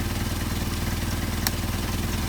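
A Mercedes 190SL engine fitted with Solex 44PHH carburetors idles steadily, a close, even, throbbing rumble with one faint click partway through.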